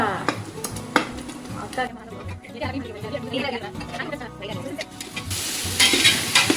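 Green chillies and tomatoes for biryani fry and sizzle in a large cooker and are stirred with a big ladle, making a close, steady hiss with scraping stirs while voices talk over it.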